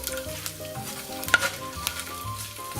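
Garlic cloves, eight of them sliced, warm gently in olive oil in a pan, giving a steady soft sizzle with a few brief clicks and stirring sounds on top, and nobody speaking.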